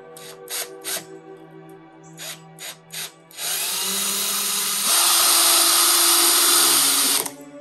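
A power drill bores into a wooden arbor, first in several short revving bursts, then in one sustained loud drilling run that grows harsher midway before stopping, close to the listener.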